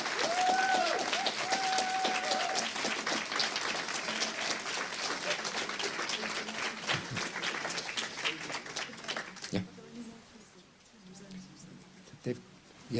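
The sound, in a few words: audience applause for workshop presenters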